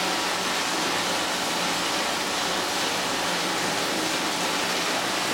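Water splashing and pouring steadily back into the tank of a hydroponic system, returning from growing benches outside; a constant, fairly loud broadband rush like a small waterfall, with no talk.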